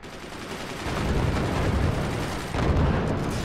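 Swarm missiles firing in the video game Forts, a dense, rumbling barrage of rapid launches and blasts that surges louder after the first second, dips briefly, then returns at full strength.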